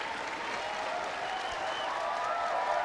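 A home crowd applauds steadily at a Chinggis Broncos versus Taoyuan Pauian Pilots basketball game, a dense, continuous wash of clapping that swells slightly toward the end.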